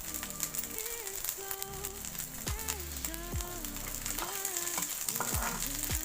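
Green chilies fry in hot oil with a steady close sizzle and crackle, scraped and stirred now and then, with no talk.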